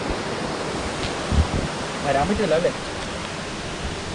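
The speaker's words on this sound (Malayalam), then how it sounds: "ഇതാണ് 4 വെള്ളച്ചാട്ടം നമ്മൾ പോകുമ്പോൾ കാണുന്നത്" Thusharagiri waterfall rushing as a continuous broadband roar, with a brief spoken question partway through.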